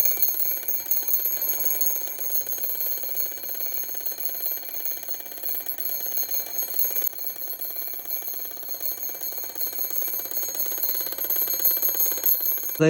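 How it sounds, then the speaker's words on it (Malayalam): An alarm clock rings continuously and shrilly for many seconds, a dense, rapid electronic ringing close to the microphone with no talking. "ഞാൻ അലാറം ഓൺ ചെയ്യാൻ പോവുകയാണ്"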